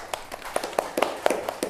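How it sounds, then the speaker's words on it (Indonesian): Light, sparse audience applause at a university teaching workshop, a handful of separate sharp claps spaced irregularly, fairly faint and brief. "Kita beri aplaus untuk kita semua."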